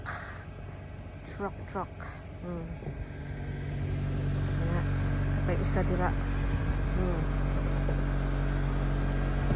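A truck engine runs under speech, growing louder and steadier about halfway through as a continuous low rumble, with a person talking over the first part.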